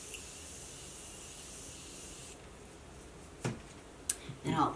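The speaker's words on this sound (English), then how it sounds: "We will use our Morphe setting spray since we have a glowy primer." Morphe makeup setting spray being misted on, a steady close hiss that runs for a couple of seconds and then cuts off, followed by a few light taps and rustles.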